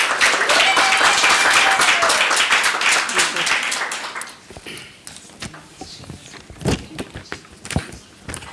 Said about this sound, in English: Can you give her a warm round of applause